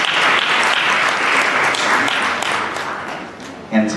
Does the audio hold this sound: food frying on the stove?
no